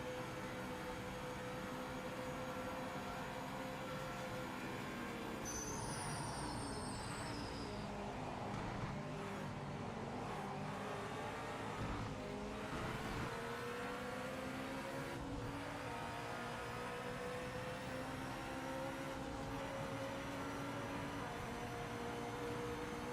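A Mazda RX-7 race car in Project Motor Racing drones steadily at mid distance, its engine pitch rising and falling through gear changes alongside other cars, with a faint tire and road hiss underneath.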